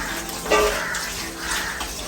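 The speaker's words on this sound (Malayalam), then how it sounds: "അടുത്തതായി നമ്മൾ കഴുകാനുള്ളത് ചിക്കൻ" Tap water runs steadily in a kitchen while chicken is washed, a close, constant gush with a few louder splashes.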